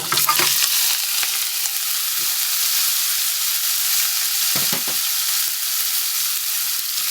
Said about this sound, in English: now in with our beef mince.